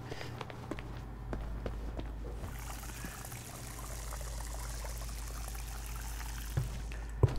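Water gushes from a pressure washer in the Crime Scene Cleaner video game, a steady hiss of spray running throughout with a low hum underneath and faint clicks, fairly quiet.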